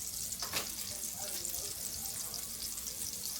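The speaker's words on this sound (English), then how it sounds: "While this is frying" Freshly added meat, a pork chop, fries in a pan with a steady, bright sizzle at moderate distance, with a brief stir or clatter near the start and no talking.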